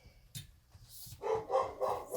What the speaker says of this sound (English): please try not to pay attention to my dogs. They protect the house.